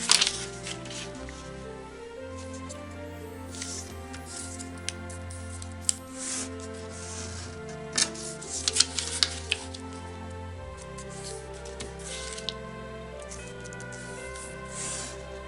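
Sheets of paper are creased and folded into an origami Christmas tree, giving close, quiet crinkles, rubs and sharp crisp snaps scattered unevenly over a soft background.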